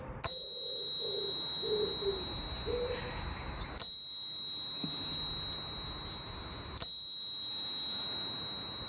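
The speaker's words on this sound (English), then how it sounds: "from my Spurcycle bell here on the left" Spurcycle bicycle bell struck three times, each ring a bright sustained metallic ding that decays slowly before the next strike, loud and close with no talk.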